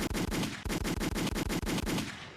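Rapid automatic gunfire sound effect, a fast burst of repeated loud shots in a steady rhythm lasting a couple of seconds, close and alone with no talk.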